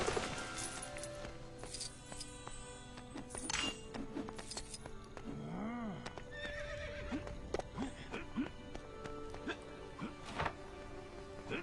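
A horse in the LEGO The Hobbit video game gives one clear whinny midway, amid game sound effects, clip-clops and metallic clinks, moderately loud.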